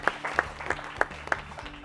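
Scattered applause from a quiz show audience after a team's score is read out, a handful of distinct claps spaced across a couple of seconds, fairly faint and thin rather than a full ovation.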